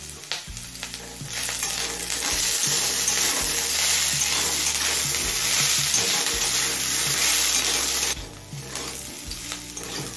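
Carrot, grated ginger and slit green chillies sautéing in a pan, a loud, dense sizzle that runs steadily for several seconds before easing, with occasional stirring scrapes.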